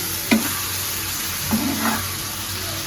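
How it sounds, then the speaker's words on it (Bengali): Steady close sizzling of spiced fish frying in oil, broad and hissy throughout, with a few soft clinks and scrapes of stirring. "মাছটা দিবেন। হ্যাঁ, একদম সুন্দর করে এটা ভাজা ভাজা হবে"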